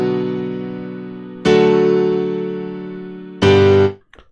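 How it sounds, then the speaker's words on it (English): A grand piano played in FL Studio sounds two sharply struck chords that ring and slowly decay, a final shorter note cut off abruptly, bright and close with no voices. "So right now we have this grand piano right here."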